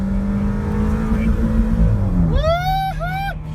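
An Alfa Romeo 4C engine drones loudly from inside the car on the Vancouver Island Motorsport Circuit, then shifts into a rising whining pitch sweep as it accelerates.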